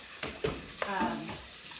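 Pork with tomato sauce sizzles in a pan while being stirred, with a few scraping knocks over a soft, steady frying hiss, close and moderately loud.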